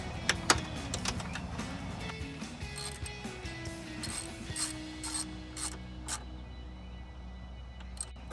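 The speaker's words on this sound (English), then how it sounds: "It's always good to do a crisscross action when tightening these." Bolts on a 68mm aftermarket throttle body for a 2005-2010 Mustang GT being tightened in a crisscross pattern with a 5/16 socket, giving close, soft mechanical clicks and ratcheting over a steady low hum.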